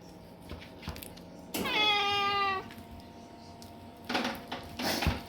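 A cat meows once, loud and close, a drawn-out harmonic call in a busy home kitchen, followed by some rustling and clattering.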